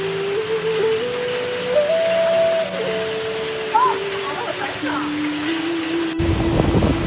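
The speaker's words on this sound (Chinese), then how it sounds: "现在这个丰台区狂风暴雨啊！" A heavy thunderstorm with hail and strong wind lashes Fengtai District in Beijing, a continuous roar of rain with a whistling wind tone that rises into a louder burst near the end.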